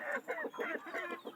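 A big black Australorp rooster clucks in a rapid run of short, throaty, close notes, loud and with no other sound around it, early in the morning on a poultry farm.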